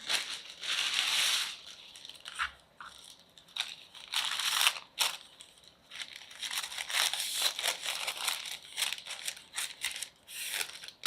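Tissue paper is crinkled and taped around a homemade candy bouquet: close, papery rustling and crunching in irregular bursts and pauses, with occasional sharper tearing-like rasps.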